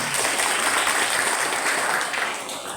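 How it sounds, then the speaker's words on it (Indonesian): Primary school students applauding at an anti-bullying session in a school hall, a steady wash of many hands clapping at once, loud and continuous before tapering slightly at the end. "Semangat, tepuk tangan"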